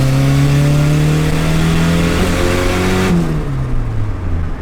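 A budget turbocharged Nissan KA24DET engine roars loud and close on a dyno, holding a steady high-rev drone whose pitch climbs, then drops off sharply as the throttle is released.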